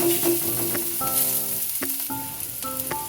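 Grated ginger fries in hot oil for an ash gourd vegetable dish with bori, giving a steady close sizzle with a few brief clinks and scrapes of a utensil.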